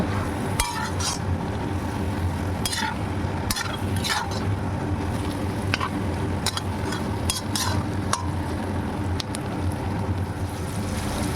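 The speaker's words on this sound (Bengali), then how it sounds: "সব উপকরণ খুব ভালোভাবে নেড়েচেড়ে প্রায় মিনিট 3 ভেজে নেওয়ার পর" Ridge gourd cooks with spices in a pan while a utensil scrapes and clinks against the metal at irregular intervals over a steady frying hiss and low rumble.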